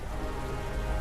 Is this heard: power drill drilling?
no